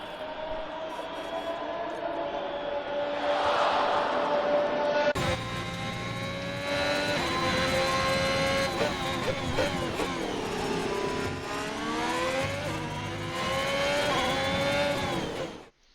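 Formula 1 race car engine from the F1 2021 video game at the Hungary circuit, a high-pitched whine that rises and shifts steadily through gear changes, loud and continuous with layered engine tones throughout.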